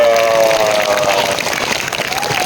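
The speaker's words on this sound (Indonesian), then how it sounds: "Kasih tepuk tangan dulu dong." Schoolchildren at an elementary school clap together after a storytelling session, a loud, close burst of applause with a brief voice heard at the start.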